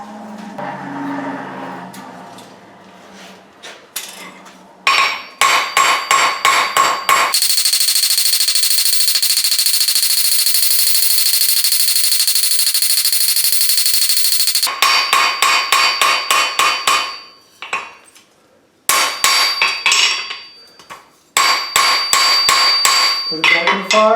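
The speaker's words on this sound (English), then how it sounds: "I'm going to take the ball peen. I'm going to round that out a little bit." A ball peen hammer strikes hot steel while forging a wreath hook, loud rapid bursts of ringing blows on an anvil separated by a long steady roar, likely the forge fire.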